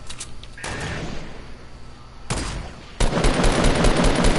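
Fortnite gunfire crackles in bursts, a short rattle then heavier, denser rapid shots swelling louder toward the end, close and sharp with no voices.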